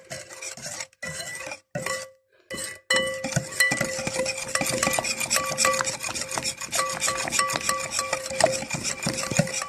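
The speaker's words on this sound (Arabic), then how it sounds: "هقلب كله طبعا في بعضه زي ما انتوا شايفين كده بمضرب عادي" A hand whisk stirs a powdered sugar mixture in a bowl, making quick, rapid scraping and clinking strokes. Short bursts with pauses at first, then continuous brisk whisking.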